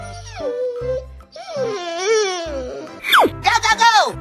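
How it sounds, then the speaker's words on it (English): Cartoon dog howls in long wavering, sliding cries over thumping background music, loud and close, ending with a sharp falling yelp and a few quick whining calls. "Dog."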